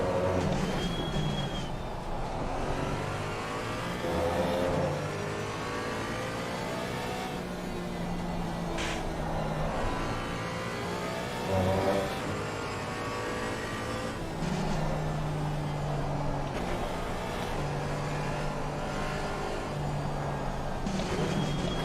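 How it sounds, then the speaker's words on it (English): A GT race car in Assetto Corsa Competizione at Snetterton, engine droning steadily with repeated revs and abrupt gear changes as it works down through the gears into a sweeping corner, fairly loud and continuous. "A lot of gear banging down, you know, through that last sweeper from fourth back down"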